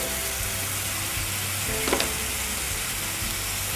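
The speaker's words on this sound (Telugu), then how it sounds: "అన్ని మసాలాలు వేసి హై ఫ్లేమ్లో ఫ్రై చేయాలి" Chicken tikka with coriander powder, salt, turmeric, chilli and garam masala fries on high flame, producing a continuous dense sizzle up close with a brief stirring scrape midway.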